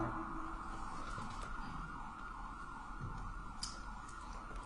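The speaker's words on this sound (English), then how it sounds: "I live in Denver, Your Honor. I understand sirens, unfortunately." An emergency vehicle siren wails outside a Denver courtroom during a trial, faint and distant beneath steady room noise, with no voices in the foreground.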